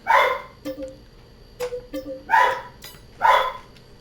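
A farm dog barks in Farming Simulator 22, giving three loud, close barks spaced about a second apart, with softer whimpering yips in between.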